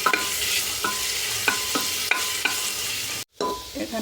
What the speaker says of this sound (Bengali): এখানে আমার পেঁয়াজটা হালকা ভাজা হয়েছে